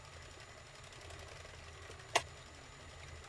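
An Addi knitting machine is cranked slowly and smoothly, giving a soft steady mechanical whir with a single brief sharp click or beep partway through, fairly quiet overall.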